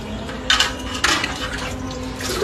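Water splashing as someone washes their face after a makeover, with a steady running tap underneath and a few louder splashes close by.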